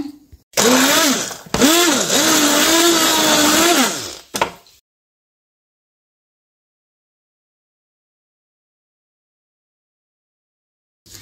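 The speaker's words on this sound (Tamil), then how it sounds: "பிளெண்ட் பண்ணிட்டு வந்துடுறேன்." A blender whirs loudly for about four seconds, its motor pitch wavering up and down, then cuts off abruptly into silence.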